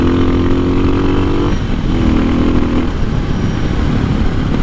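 A loud motorcycle engine revs hard twice in quick succession, a throaty roar with rising pitch, close to the listener.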